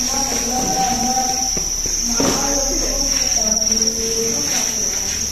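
Crickets chirp loudly in a cricket breeding box, a steady high trill running throughout with softer scattered chirps and faint background noise beneath.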